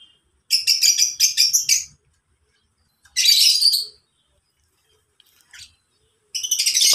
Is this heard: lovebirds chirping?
yes